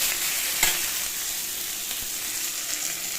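Fish head and vegetables frying in a pan with cumin, green chili, salt and turmeric: a constant bright sizzle with a spoon scraping and stirring through it, one sharper clack early on, close by and without talk.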